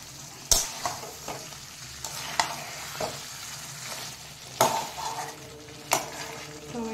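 Curry being sautéed (kosha) in a pan, a steady close sizzle with occasional sharp metal spatula clinks and scrapes against the pan, no talk.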